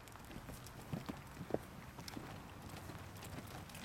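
Horse hooves strike the ground in a quick, uneven cantering rhythm during a jumping lesson, soft and moderately distant with light thuds.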